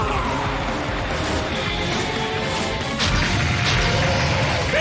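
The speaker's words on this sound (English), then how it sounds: "All three golems crashing down at the same time?" Three golem monsters crash down and are destroyed at once in a Yu-Gi-Oh! 5D's duel: a dense, loud smashing rumble that runs the whole time, swelling with a sharper burst about two-thirds through.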